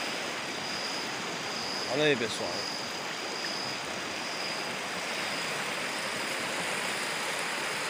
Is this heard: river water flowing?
yes